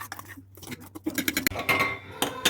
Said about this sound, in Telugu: మంచిగా మిక్స్ చేయాలి, చాలా మంచిగా మిక్స్ చేయాలి.